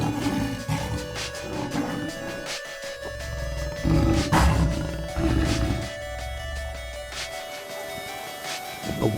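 Lions roar in deep, rumbling bursts as they rush in to attack a pack of wild dogs, several loud low growls rising and falling across the scene with a constant noisy background.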